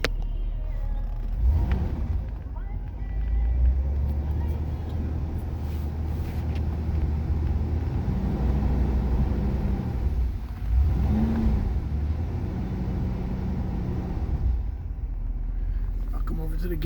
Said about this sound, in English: I'll give her a few revs.